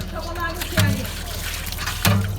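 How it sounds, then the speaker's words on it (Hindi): Water splashes and trickles into a container during the final rinse after two washes, with two brief louder gushes standing out over a steady wet background. "लास्ट बार इसमें पानी डाला जा रहा है"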